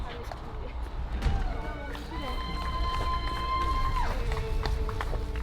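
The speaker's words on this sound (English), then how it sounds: "I hear, tons of cowbells, people cheering" Crowd cheering and clanging cowbells at the finish line of a 100-mile ultramarathon, loud and continuous, with a long sustained whistle or horn tone, running footsteps and voices mixed in throughout.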